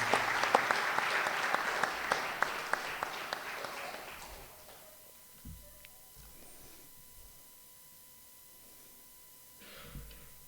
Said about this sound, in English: please can we have a round of applause for all our children and youth